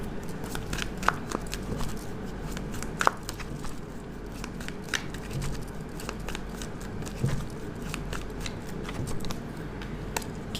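Tarot cards being shuffled and handled during a reading, a steady stream of soft crisp flicks and riffles at moderate level over a faint background hum, with no talking.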